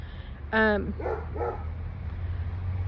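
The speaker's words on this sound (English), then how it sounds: "I have dogs barking all around me too" A dog gives one loud, close bark, followed by two softer barks in quick succession, over a low, steady hum.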